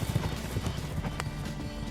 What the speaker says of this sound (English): this scene here where we're racing horses